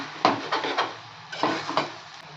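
A spoon stirs broad bean egg curry in a pan, making several close scraping strokes in two short bursts, with a soft sizzle underneath.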